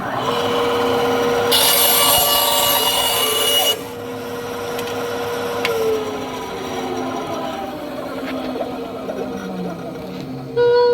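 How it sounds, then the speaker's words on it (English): A tool trims a wooden flute to tune it, giving a continuous rasping, scraping sound with a brighter burst early on. Steady background noise sits beneath the close, fairly loud working sound throughout. "Let me trim just a little bit more off."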